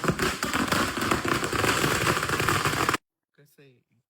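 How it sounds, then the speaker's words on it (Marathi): A string of 1000 firecrackers set off in one continuous burst, loud and close, a dense rapid crackle of pops for about three seconds that cuts off abruptly, followed by a brief voice in near silence. "डायरेक्ट फटाक्याची माळ लावतोय"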